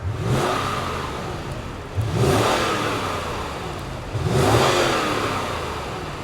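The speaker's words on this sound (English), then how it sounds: "I have a feeling that this has a bit of a V8 rumble. If you're ready, I'm ready. Let's fire it up and hear what it sounds like." A 2023 Lexus GX 460 with a V8 engine revs three times in succession, each throttle blip swelling into a deep rumble and then settling back, loud and close with no talking.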